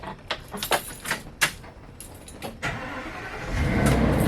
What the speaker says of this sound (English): Turning on the engine here.